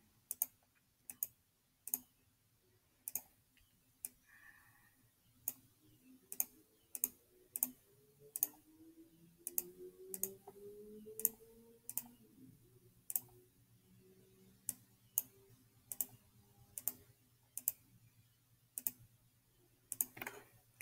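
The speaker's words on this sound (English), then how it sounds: "So I'm just going to click these last few, do my last formula" Computer mouse clicking while building pixel art in a spreadsheet: about two dozen faint, sharp clicks at a steady, unhurried pace over a low background hum, close and quiet.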